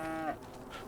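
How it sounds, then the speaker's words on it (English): Highland cattle in a farming game, one short, close, drawn-out moo that then fades into quiet farm ambience. "so I added the Highland cattle to the map, to the pasture."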